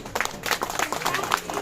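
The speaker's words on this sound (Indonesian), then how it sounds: "Terima kasih, tepuk tangan dulu." A crowd at a 25th-anniversary alumni reunion of the class of 1997 from SMU Negeri 6 in Makassar breaks into brief, steady clapping that is moderately distant, with voices mixed in.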